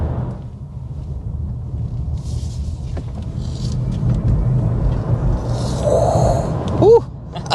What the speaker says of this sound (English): we need to start with a hard acceleration because this thing is way faster than you might expect